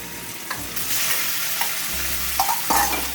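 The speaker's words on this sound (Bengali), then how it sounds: "15 মিনিট পরে আমি তেলের মধ্যে এগুলো ছেড়ে দিচ্ছি।" Thin-sliced marinated chicken drops into plenty of hot oil and fries with loud, crackling sizzle, broken by stirring scrapes and bursts of spattering, close up and without talk.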